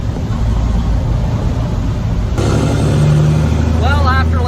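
Cat 3406B diesel truck engine revving under throttle, a loud rumbling drone that shifts abruptly midway as the engine note rises, with a person talking over it.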